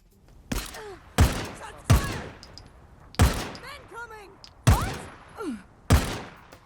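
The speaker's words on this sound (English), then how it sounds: "I quite like the suppressed sound effect on this actually, and the normal gunshot has quite a good echoing kind of quality to it." Suppressed gunshots in the video game Days Gone Remastered, six sharp muffled thumps fired at irregular intervals with short metallic tails between them, loud and close.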